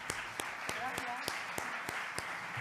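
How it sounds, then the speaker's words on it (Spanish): An audience applauds a moderator at a round-table talk on entrepreneurial culture, a modest clapping that carries through the whole moment, with several sharper individual claps standing out in a regular rhythm. "Un gran aplauso para Pilar Pérez"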